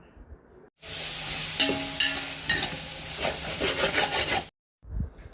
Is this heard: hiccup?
no